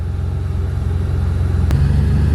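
A classic BMW, E30-era sedan, drives along with a steady low engine rumble and road noise close by, rising slightly in loudness toward the end, with a short click in the middle.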